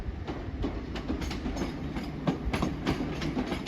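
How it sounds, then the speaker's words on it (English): Royal Mail class 325 parcel electric multiple unit 325007 running through Crewe station, a steady close rumble with repeated clickety-clack wheel beats over rail joints, no voices. "Right, we do have the parcel train."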